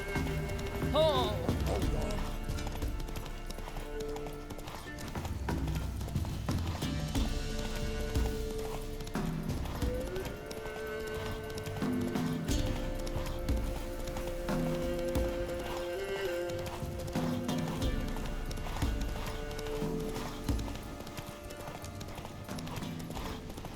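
Horse galloping in The Witcher 3: Wild Hunt on Xbox Series X, steady rhythmic hoof clip-clop with occasional neighs over game music and ambience, with a person talking intermittently.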